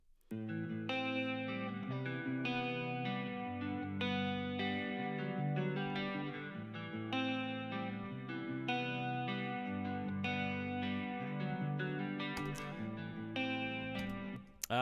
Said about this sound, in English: So the second electric guitar sounds like this.